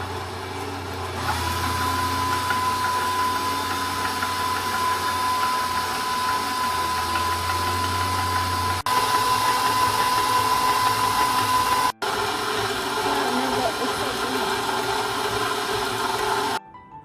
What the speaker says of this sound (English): Next step is to use an electric mixer.